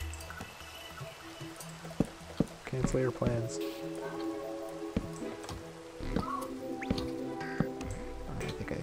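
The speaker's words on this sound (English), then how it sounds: "The rain is back." Rain falling in Minecraft, a steady patter of drips and splashes on surfaces running throughout, with occasional sharper knocks and someone talking briefly over it.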